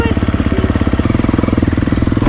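A 250 FC motorcycle engine, freshly repaired, idles while warming up, a close, loud single-cylinder putter with a steady rapid pulsing rhythm throughout.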